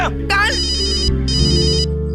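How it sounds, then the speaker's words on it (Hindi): A mobile phone ringtone plays loudly and close, a bright repeating electronic melody in two bursts, preceded by a brief voice. "मेरे बॉस का फोन है।"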